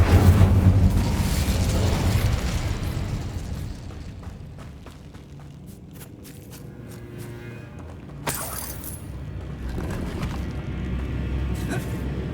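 Incendio fire spell in Hogwarts Legacy: a heavy whooshing burst of flame at the start that fades into crackling and scattered impacts, with a sharp crack near the end and game ambience throughout.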